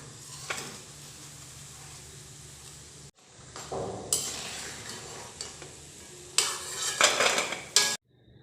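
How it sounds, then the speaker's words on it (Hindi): Namak pare frying in oil in a kadhai, a soft sizzle under repeated scraping and clattering of a metal spoon against the pan, with louder bursts of stirring toward the end. "जब हम इसे कढ़ाई में डालते हैं तब हम इसे 7 से 8 मिनट तक बिल्कुल लो फ्लेम के ऊपर दोनों साइड से फ्राई करेंगे।"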